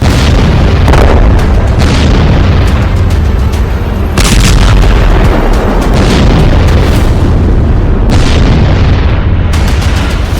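Bombing explosions in a news report boom loudly and continuously, with heavy rumbling blasts and sharp bursts recurring throughout, dense and close with no speech.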